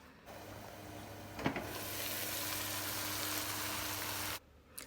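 Oxtail pieces browning in a pot give off a steady, moderately quiet sizzle for a few seconds, with one small clink partway through, and then the sound cuts off.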